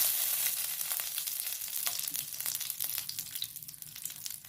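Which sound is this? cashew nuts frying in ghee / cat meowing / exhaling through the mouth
cashew nuts frying in ghee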